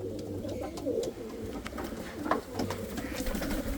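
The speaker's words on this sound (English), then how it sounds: "Chinese owls are some small pigeons you can actually hold in your hand very easily" Chinese owl pigeon, a small pigeon breed, cooing softly in a loft, a few low throaty coos over light background rustling and distant noise.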